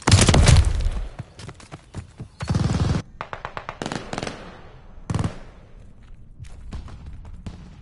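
Shotgun blasts in Call of Duty: Vanguard, several loud booming shots with sharp cracks between them, irregularly spaced, some longer rumbling bursts, heard alone without talk.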